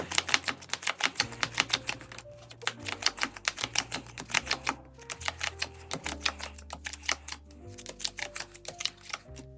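Playing cards are dealt rapidly into piles, sped up, making a quick run of sharp snapping flicks and ticks in bursts, close and crisp, with low hum underneath and no speech.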